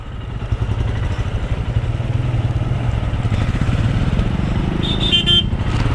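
Motorcycle riding along Maravanthe beach on a road trip, a steady close engine drone with a pulsing low throb and a brief horn toot near the end.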